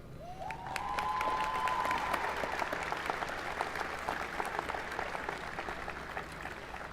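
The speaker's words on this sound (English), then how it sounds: "I want you to give those alumni folks a round of applause." A graduation ceremony audience claps in a broad, fairly distant round of applause that swells in the first second, then holds steady. A faint tonal whistle or squeal drifts in briefly near the start.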